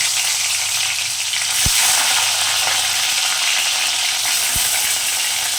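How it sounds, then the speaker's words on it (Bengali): Bitter gourd pieces deep-fry in hot oil, giving a steady dense close sizzle with a couple of sharp clinks from a utensil, and no talking. "ওই তেলের মধ্যে আমি উচ্ছেগুলোকে ফ্রাই করে নেব"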